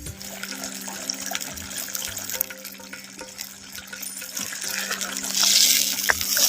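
Cauliflower 65 simmering in a spiced masala in a pan, a steady soft bubbling and sizzling hiss that runs the whole time and grows louder near the end, with faint clinks now and then.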